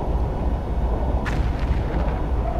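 Explosions in the submarine video game Silent Hunter 2: one sharp blast about halfway through rises out of a steady deep rumble, followed by softer crackling that fades, with no voices.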